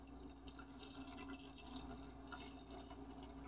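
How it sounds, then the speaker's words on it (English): Water trickles and splashes into a pressure cooker holding chana dal, a faint close-up stream with small drips, with no voices. "So I'm going to add some water."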